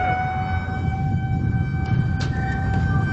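A fire engine siren holds a steady sustained wail over heavy low rumbling noise, continuous throughout with faint clatters near the end.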